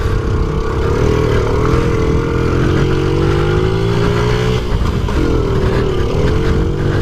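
A 1993 Honda Z50R mini motorcycle, ridden in first gear by an adult of about 200 pounds, labors up a steep hill; its engine drones loud and close without a break, the pitch sagging briefly near the end before recovering.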